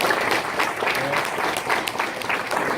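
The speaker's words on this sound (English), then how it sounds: "Give him a round of applause." Audience applause at a Hebrew Israelites summit in Florida, a thick, even wash of clapping from a crowd that keeps going at full strength throughout.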